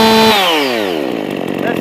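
Rebuilt Husqvarna 55 chainsaw fitted with a Chinese cylinder kit, revving loud and close: a steady high whine that drops sharply as the throttle is released, the engine pitch sliding down and settling into a rough idle.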